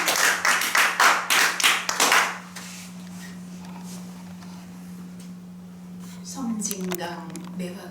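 Close, distinct hand claps from a small audience at a community poetry gathering, a quick burst of about a dozen claps over two seconds, then a low hum and a voice beginning to speak.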